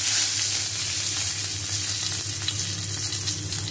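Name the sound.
bay leaf and whole spices sizzling in hot oil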